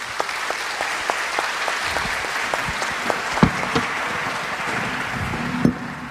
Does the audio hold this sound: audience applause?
yes